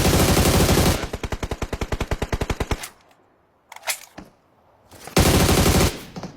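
Gunfire in a video game comes as a long rapid burst of automatic shots, then a lull with a few scattered noises, then another loud sustained burst near the end.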